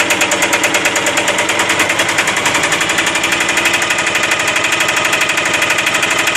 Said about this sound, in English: if I want to give it a bit more revs, I pull this forward